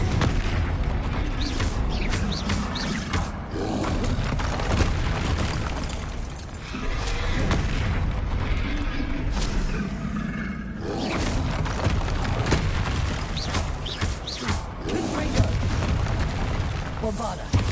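Confringo fire spell blasts in Hogwarts Legacy on PS5, a series of heavy booming explosions and crackling bursts with dense battle noise, repeating through the stretch amid mixed game sounds and some voice.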